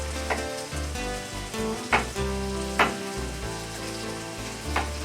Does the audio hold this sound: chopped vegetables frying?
yes